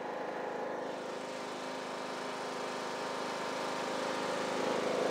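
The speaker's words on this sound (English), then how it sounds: "On my lawn tractor, going from job to job, mowing lawns." A lawn tractor engine drones steadily and fairly quietly while riding down a residential street, a continuous mower hum that swells slightly toward the end, with no talking.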